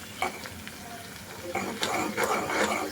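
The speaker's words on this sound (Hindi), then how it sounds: "प्याज हो रहे हैं" Onions sizzle and crackle in hot oil tempered with mustard seeds, with a few stirring scrapes and a faint voice in the background; the frying grows louder toward the end.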